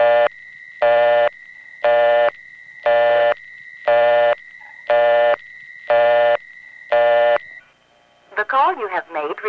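A 1970s telephone intercept on a local call dialed without a dime: eight evenly spaced, identical two-tone bursts with short silences between, followed by a recorded voice beginning to speak.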